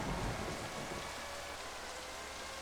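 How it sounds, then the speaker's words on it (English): Steady rain hiss fills a wet Barcelona race in the 1997 game Formula 1 Championship Edition, a constant broadband wash with no distinct thunder crack, no engines standing out and no voices. "Kind of surprised they were racing with thunder and lightning."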